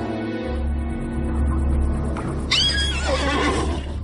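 Frightened horses in a stable whinny loudly and shrilly, one long rising-and-falling neigh standing out over a steady low rumble and faint hoof movement.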